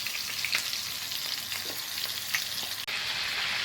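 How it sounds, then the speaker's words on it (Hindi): Mutton kababs fry on a tawa over a low flame, giving a steady, close sizzle with faint crackles throughout, no voices. "मैंने इसको लो फ्लेम पे हल्की आंच पे फ्राई करने रखा हुआ है"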